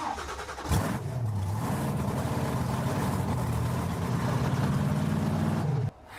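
Swamp Thing 4x4 monster truck engine cranking and firing into a loud, steady idle rumble close by, running for about five seconds before cutting off abruptly.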